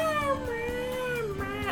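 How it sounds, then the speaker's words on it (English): A cat meows in the Persona 5 video game, one long drawn-out wavering call that slides downward in pitch, heard close and clear over faint background game audio. "he literally made cat noise instead of talking"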